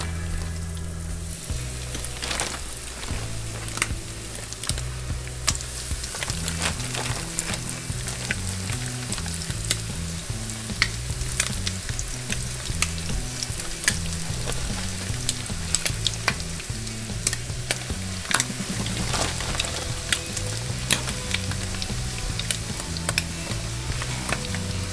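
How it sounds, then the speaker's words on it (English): White bass fillets frying in hot oil for fish tacos at a Utah Lake catch-and-cook, a steady close sizzle running throughout with crackling pops and some stirring. "It's sizzling,"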